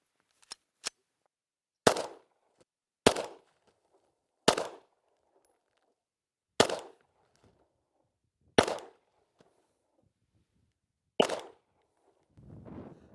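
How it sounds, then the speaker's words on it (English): Eight sharp gunshots from a Glock 17 9mm pistol, fired one at a time at a slow, uneven pace with short ringing tails and silence between, plus a faint rustle at the end. "Now I want to shoot my favorite, which is the Glock 17."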